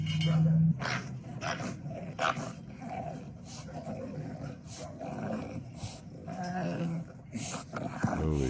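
A stressed off-leash dog growls and snarls in low, rough bursts with brief whimpers, fairly close, over a muffled, noisy background.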